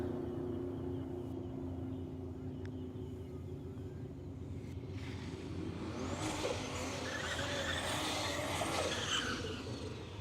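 A 1977 Holden Torana LX drag car with a blown 265 engine on street radials revs at Willowbank Raceway, a steady engine drone building into louder, rising revs in the second half.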